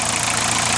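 An old diesel engine running on 22-year-old fuel after being primed and started, a loud steady knocking rumble that is close and continuous, with no talk.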